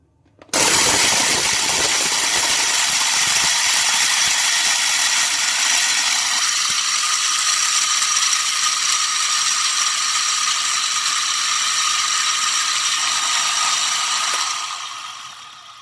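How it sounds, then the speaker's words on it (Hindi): An electric grinder runs on ingredients for chana panjiri, a desi sweet, with one loud, steady, close whirring whine that starts abruptly, holds for about fifteen seconds and then winds down, with no talking. "तो इनको हम सबको कर लेते हैं ग्राइंड इसी तरह।"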